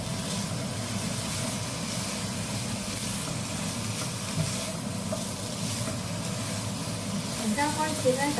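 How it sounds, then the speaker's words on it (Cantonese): Eggplant is stir-fried slowly in a wok with a steady, dense sizzle and hiss and the soft scrape of stirring, while a person speaks over the cooking. "而家開始呢，就慢慢炒佢啦。 將啲矮瓜慢慢炒落去先。"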